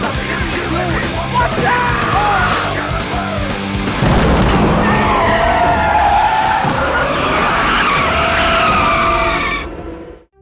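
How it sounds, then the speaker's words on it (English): A car skids and crashes in the opening scare of the horror film I Know What You Did Last Summer: loud, sustained tire screeching and skidding with engine roar and yelling, ending in a sudden impact before cutting to silence. "the car slams into something in the middle of the road"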